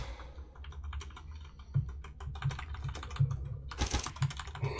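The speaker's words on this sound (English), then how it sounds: "So I'm mash clicking and then mashing escape." Rapid, frantic mouse clicking and repeated escape-key mashing on a computer keyboard during a Superhot speedrun, a dense continuous clatter of keys and clicks with a louder burst near the end.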